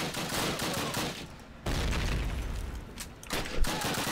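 Sustained machine gun fire in the WWII shooter Call of Duty: United Offensive, loud and close, rattling in dense bursts with booming impacts layered underneath for the whole stretch.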